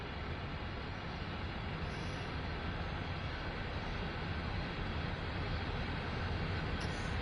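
A train runs in the Train Sim World 5 video game, giving a constant, dense broadband rumble and roar that holds steady without pauses for the whole stretch.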